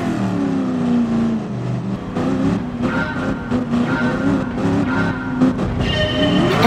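A Sauber Mercedes C-class race car in the GT Sport video game roars off the start, its loud engine revving and shifting while tires squeal and skid, with rapid gear-change dips and a climbing whine at the end.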